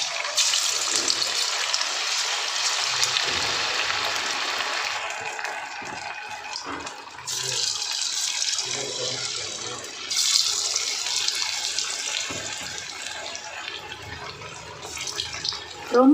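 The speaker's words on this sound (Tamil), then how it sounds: "எண்ணெய் காஞ்சிருச்சு. நம்ம சிக்கனை பொரிச்சு எடுத்துடலாம்." Pieces of chicken 65 deep-frying in hot oil give a loud, steady broadband sizzle that dips briefly a few times before surging back.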